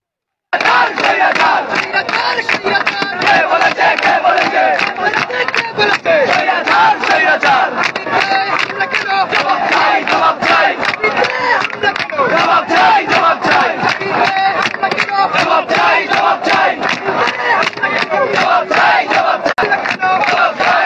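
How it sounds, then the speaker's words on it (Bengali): Student protesters at an anti-quota rally at SUST in Sylhet chant slogans in unison, a loud, continuous mass of voices that surges rhythmically and keeps going for the whole stretch. "শিক্ষার্থীরা কিন্তু এই মুহূর্তে বিভিন্ন ধরনের স্লোগান দিচ্ছেন"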